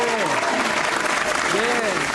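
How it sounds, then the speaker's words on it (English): Studio applause, likely a canned clap effect, plays steadily throughout, blended with speech-like tones, on a hip-hop radio show congratulating Remy Ma. "Let's give her a clap, man"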